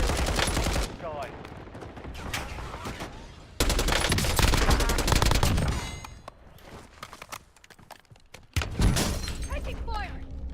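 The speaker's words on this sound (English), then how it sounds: "Taking fire!" Bursts of automatic gunfire rattle through a Warzone match, with heavy, close volleys that stop and start, a brief quieter lull, then another burst near the end, while voices talk over the action.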